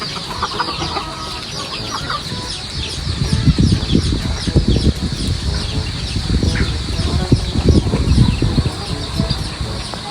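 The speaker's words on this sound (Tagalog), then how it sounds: "Ako po ay magpapakain po na itong mga manok." Chickens being fed at feeding time cluck and chatter in a busy, overlapping flock, close by and fairly loud, with scratchy bursts of activity throughout.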